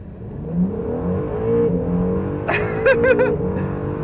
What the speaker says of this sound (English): I'll keep my left foot on the brake, floor the throttle, release the brake